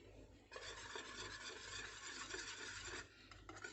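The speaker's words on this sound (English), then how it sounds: "Now I'm going to whisk it." Whisk rasping steadily through chickpea flour batter in a bowl, a continuous scraping whir that starts after a brief pause and runs almost without break, close and fairly loud with no talk.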